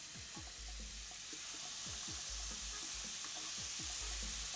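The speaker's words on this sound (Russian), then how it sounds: "Я буду жарить его примерно по 4 минуты с каждой стороны." Food sizzles and crackles steadily in olive oil in a hot pan, a constant bright hiss with occasional low scraping and stirring knocks.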